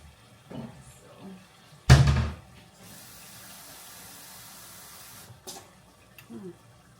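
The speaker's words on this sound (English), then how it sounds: "So let me add some water to that." Water from a kitchen tap poured onto beans in a pot, a sharp burst of splashing followed by a few seconds of steady running flow, with faint clatter and a voice at the edges.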